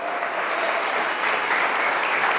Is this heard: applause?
yes